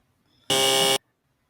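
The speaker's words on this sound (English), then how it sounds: "Go ahead now with the buzzer." A single loud, flat electronic buzz from a movie trivia game show buzzer, lasting about half a second and cutting off abruptly in an otherwise quiet room.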